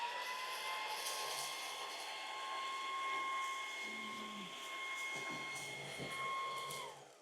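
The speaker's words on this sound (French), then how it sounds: "on va voir s'il est capable d'aspirer ça tout simplement en un seul passage" A Jigoo V700 cordless vacuum cleaner runs on max mode sucking up dust, giving a steady, loud whine with a tonal hum that holds throughout and then fades at the end.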